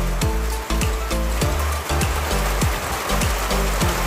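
Rainwater leaks through a corrugated metal roof indoors, a constant close rush of falling water broken by a regular series of hollow plopping drips.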